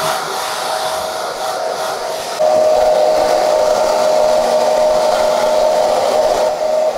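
A hair dryer on low speed and high heat blows a steady, loud whoosh with a whining tone, stepping up slightly in intensity partway through, with no talking.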